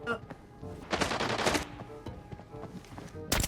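Rapid gunfire bursts in the Arena Breakout shooter, with a dense volley around one to one and a half seconds and another sharp burst at the end, over quieter game ambience.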